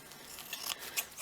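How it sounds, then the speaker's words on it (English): A pair of scissors snips through fabric made from bubble wrap with a quick, quiet crisp crunch, two short cuts close together heard up close with no talking. "I'm going to cut this off a little bit."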